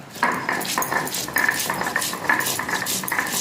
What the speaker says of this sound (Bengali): এটাও অল্প অল্প করে জল দিয়ে ভালো করে ভেজে নেব